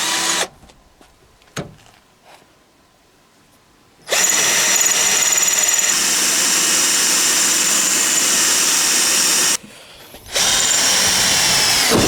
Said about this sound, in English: You can put it onto hammer drill if you want.